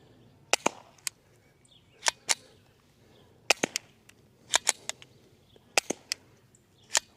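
Subsonic rifle rounds fired through a B&T Print-X Tiger Ti titanium suppressor, heard as about a dozen sharp, quiet cracks in irregular pairs and singles over faint outdoor background, with no talking.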